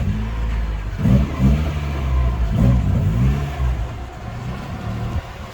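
A car with a blown eBay turbo kit revving while being driven, the engine loud and close, surging in repeated rises and falls of throttle over several seconds.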